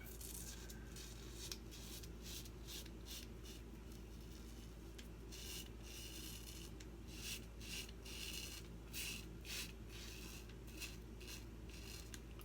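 A Gillette razor scrapes across a shaved head in short, repeated strokes, a soft, close, rasping scratch coming in irregular bursts over a faint steady hum.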